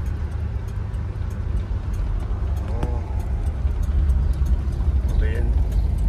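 A car driving along a road, a steady loud engine and road rumble filling the whole stretch with no break, heard from inside the vehicle.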